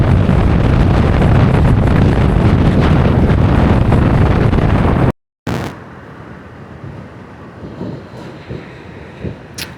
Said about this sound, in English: it's really a lot of wind.